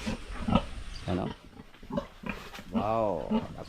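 A sow grunts and snorts in short bursts, close by, mixed with a voice speaking over it.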